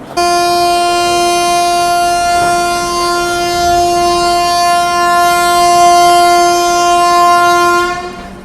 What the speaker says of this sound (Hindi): चलिए भाई बिल्कुल ऑन टाइम 9:50 पर अपनी पुरुषोत्तम एक्सप्रेस यहाँ पे निकल चुकी है पंडित दीनदयाल उपाध्याय जंक्शन से